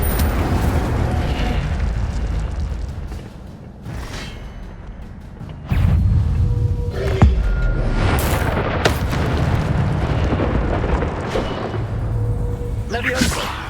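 Incendio fire spell cast in Hogwarts Legacy, with repeated booming bursts and whooshing blasts of flame and spell effects hitting one after another over a dense game soundscape.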